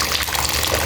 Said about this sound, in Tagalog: Siguro dagdagan ko siya unti ng tubig.